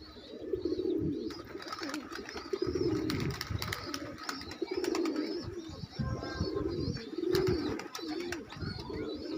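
Several pigeons, including tipplers, coo continuously in a loft in low, throaty rolling phrases, close by, with occasional faint chirps and clicks in the background.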